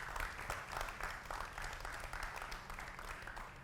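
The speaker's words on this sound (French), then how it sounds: "Bienvenue, M. Emmanuel Dauphin, et l'applaudissement pour lui, s'il vous plaît." Quiet, continuous audience applause at a talk event, a distant, even patter of many hands clapping throughout.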